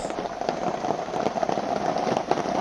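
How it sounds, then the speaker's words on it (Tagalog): Steady rain patters outside, a dense continuous hiss with scattered drips, moderately loud throughout and no voices. "problema, umuulan pa sa labas."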